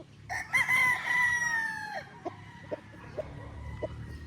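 A young rooster (stag) lets out one loud, close crow, a long wavering call that falls away, followed by a few short clucks.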